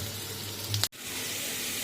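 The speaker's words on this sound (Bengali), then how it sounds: "এই আলুটা ভাজা হয়ে গেল পরে এর সাথে সব এক এক করে ভেজে নেবো আস্তে আস্তে করে" Potatoes frying in a pan for a soybean curry, a steady soft sizzle with a brief louder crackle and a momentary dropout near the middle, no talking.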